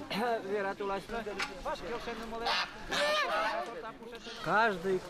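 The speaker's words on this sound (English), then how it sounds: "People come with what we call sacrificial waterfowl." Geese brought as sacrificial waterfowl by pagan worshippers in a pine and birch forest, honking loudly and repeatedly in close, overlapping calls, with a voice speaking at the same time.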